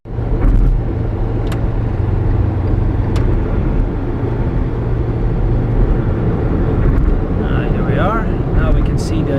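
Recorded from inside a car driving home past high-speed railway construction in China, a steady loud road rumble and engine drone continues throughout, with a few faint clicks and a brief higher whine near the end.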